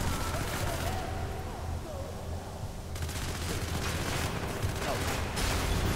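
Gunfire and explosions in the shooter video game Hatred, a dense continuous barrage of shots and blasts with sharp bursts toward the end, loud and unbroken throughout.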